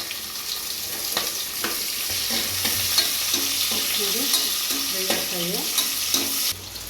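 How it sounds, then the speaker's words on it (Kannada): Onions being stirred into hot oil in a pan as a tempering for ghee rice, with a steady sizzle and scraping stir strokes throughout, a faint tap-like hiss beneath, and no talking. "ಈರುಳ್ಳಿ ಹಾಕ್ತೀನಿ ಒಗ್ಗರಣೆಗೆ"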